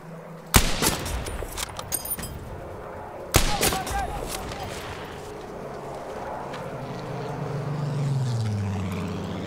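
Battlefield 5 single-player combat at a German base in Africa: two sharp, loud gunshot blasts with ringing tails a few seconds apart, followed by rumbling battle ambience, engine drone and an aircraft-like sweep, with game voices underneath.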